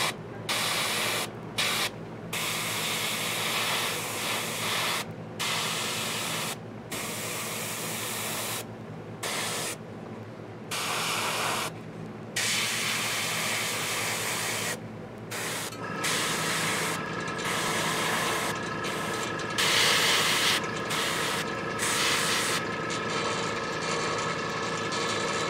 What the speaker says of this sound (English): I got my compressor making noise at the moment